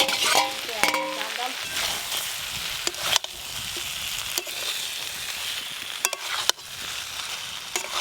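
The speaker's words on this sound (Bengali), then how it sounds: "সোয়াবিনটা ভালো করে মশলার সঙ্গে কষে নিচ্ছে" Soybean chunks with fried potato and cauliflower being stir-fried in spices, a constant close sizzle with sharp intermittent scrapes and clanks of a spatula against the pan.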